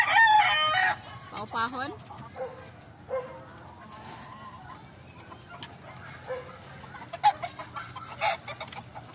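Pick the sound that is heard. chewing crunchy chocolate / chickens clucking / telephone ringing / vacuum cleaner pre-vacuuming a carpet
chickens clucking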